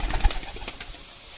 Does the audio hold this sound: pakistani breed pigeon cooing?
yes